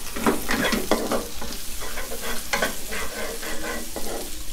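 Chillies stir-fried in hot pork oil in a wok for squid kaphrao, a steady loud sizzle broken by repeated scraping strokes of the spatula against the pan, with no talking.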